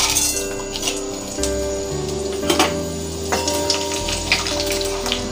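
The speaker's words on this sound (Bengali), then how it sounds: "এবার ওই তেলেই সমস্ত ফোড়নগুলি দিয়ে দিচ্ছি।" Whole spices crackle and sizzle in hot oil for a Bengali aloo dum, a steady close frying hiss with scattered pops and light clinks of a utensil, no talk.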